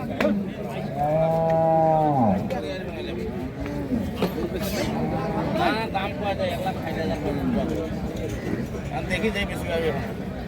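Cows and calves of the Holstein Friesian breed low loudly at a busy cattle market, with one long drawn-out moo near the start followed by scattered shorter calls under steady crowd chatter and voices.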